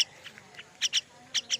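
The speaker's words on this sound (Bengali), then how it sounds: "ময়না শালিক পাখি" Pet myna birds, raised at home since hatching, give a few loud, close chirping calls in two paired bursts, with softer faint calls before them in a quiet outdoor setting.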